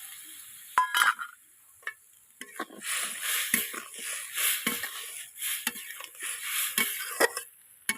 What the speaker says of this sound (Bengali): নাড়িয়ে নেব